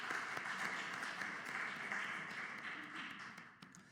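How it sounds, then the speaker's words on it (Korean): Congregation at a Korean church's Wednesday worship service applauds steadily for the praise team, a dense, even wash of clapping that holds throughout and tapers slightly toward the end. "우리 복음 3구역 식구들과 또 수요 경배 찬양팀 축복하고 격려하는 박수 하도록 하겠습니다"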